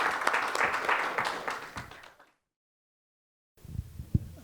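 An audience at a fund administration technology conference claps for an incoming speaker, a steady burst of applause that cuts off abruptly to silence, followed by faint low thumps.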